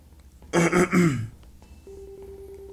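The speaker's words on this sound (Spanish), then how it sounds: "Nada más es pura tos y gripa." A single burst of harsh throat clearing from someone with a cough and flu, close and loud, lasting under a second, then a steady faint tone in a quiet room.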